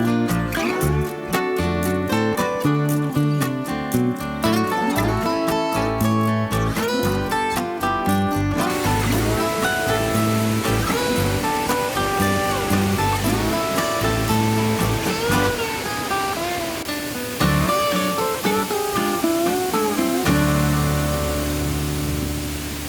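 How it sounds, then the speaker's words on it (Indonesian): Waterfall at Curug Luhur Cigangsa in Sukabumi, fed by the Cigangsa river beside rice fields: a steady, loud rushing roar of falling water that runs unbroken through the whole stretch, with tonal sounds layered over it. "Belakang saya mantap curugnya."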